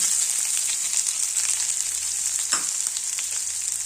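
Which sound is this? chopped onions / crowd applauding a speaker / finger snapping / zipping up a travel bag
chopped onions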